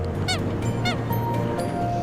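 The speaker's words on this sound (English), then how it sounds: "It's actually a few American coots near our boat." Several American coots call near a boat on Lake Mead, two loud, close, nasal honks like toy horns over a steady engine or water hum.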